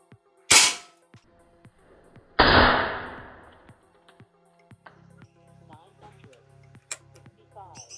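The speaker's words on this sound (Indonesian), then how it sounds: "Tembakan yang pertama ini di 965 fps." Two sharp, loud PCP air rifle shots, about 965 fps, two seconds apart, each a broadband crack with a short decay, followed by faint clicks and mechanical handling sounds.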